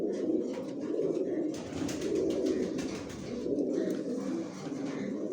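Pigeons cooing in a loft of imported racing pigeons, a soft, continuous layered cooing from several birds close by, with no talk.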